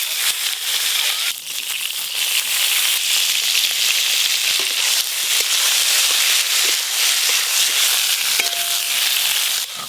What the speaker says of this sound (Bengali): এবার বেগুনগুলো ভেজে নেব।